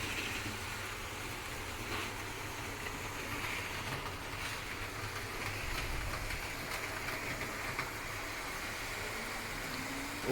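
A model train laps a layout in a railway shed, giving off a faint, steady mechanical whir and low rumble that carries on without pause for about ten seconds.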